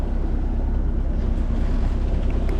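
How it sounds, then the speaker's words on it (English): A sailboat's engine drones steadily as it motors across the sea after the wind dies, a constant low rumble mixed with wind buffeting the microphone. "the wind died, and so we're motoring again"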